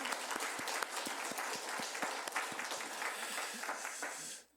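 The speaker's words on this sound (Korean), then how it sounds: "우리 영광의 박수를 하나님께 올리도록 하겠습니다." Applause from a church congregation during a Korean worship service, steady dense clapping filling the room for about four seconds before stopping abruptly, with no talk over it.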